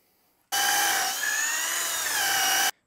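A power drill whirs loudly for about two seconds at steady high speed, its pitch dipping slightly midway, then cuts off.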